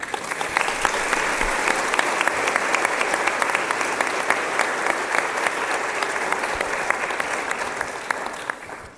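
An audience at a 2017 honors convocation claps loudly and steadily to welcome poet Yolanda Wisher to the podium, a dense wash of applause that holds for the full stretch and tapers only slightly at the end.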